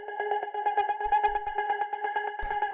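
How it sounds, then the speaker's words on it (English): A pulsing cosmic techno synth chord repeats in steady rhythm, washed in reverb that adds a sense of space, with a few soft low thumps underneath. "Then we have this reverb,"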